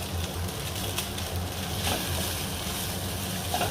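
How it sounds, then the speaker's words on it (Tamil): Rice being stir-fried quickly in a pan over a high flame, with a steady broadband sizzle that continues unbroken and close at hand, with no talk over it. "இப்போ ஃப்ளேமை ஹையில் வச்சுட்டு இந்த ரைஸை கொஞ்சம் கொஞ்சமாக போட்டு"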